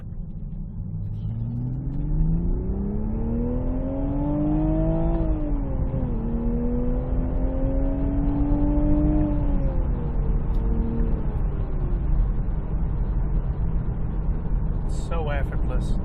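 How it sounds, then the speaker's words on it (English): A Toyota GR Supra GT4 Edition pulls up a highway on-ramp from second gear, its undersquare engine revving steadily higher with a rising, sustained drone that dips briefly at a shift before climbing again, over constant road rumble. "the engine, even though it's an under square engine, yeah, it's so eager to rev out"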